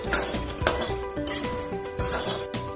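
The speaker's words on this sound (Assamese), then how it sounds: "এতিয়া এইখিনি 1 মিনিটমানৰ কাৰণেহে মই গোটেইখিনি ভাজি ল'ম" Metal utensil scraping and clinking in a pan with a soft sizzle underneath, steady stirring strokes repeating close by as rice flour fries.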